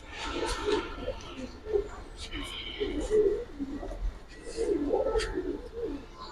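Giribaz and coloured pigeons coo in soft repeated bursts close by, with someone talking throughout.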